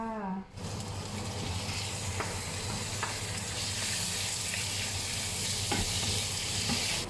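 Liver stir-fried with holy basil sizzles loudly and steadily in a hot pan, with a few clinks of a spatula scraping through the crackle.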